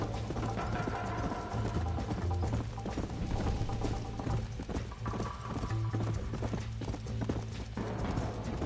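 A horse in the video game Red Dead Redemption gallops at speed, its hoofbeats a fast, steady clip-clop that runs unbroken over a low tonal bed of in-game sound.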